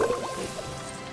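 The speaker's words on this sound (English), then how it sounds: "that new water spell comes in quite handy" Watery splashing and dripping from a water spell in LEGO Harry Potter on PS5, a gurgling, bubbly burst that starts loud and settles into a steady liquid wash.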